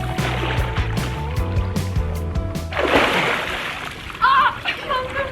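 Someone bursts up from beneath the water of a villa swimming pool, throwing up a loud splash midway through, followed by sloshing and lapping. People chatter and make noise around it.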